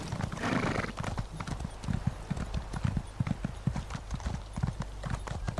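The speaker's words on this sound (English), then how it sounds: "Run, horsey, run." Horse hooves gallop in a rapid, steady clip-clop rhythm in The Elder Scrolls Online Morrowind game, loud and close, with a brief whinny near the start and no talk over it.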